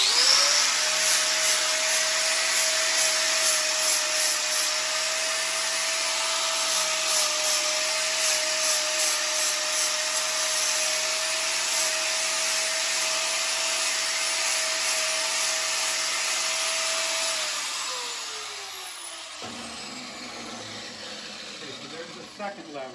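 A power tool rounds off a metal piece for a John Deere 4020 lever, giving a steady, loud, high whine that runs for about eighteen seconds before winding down and stopping.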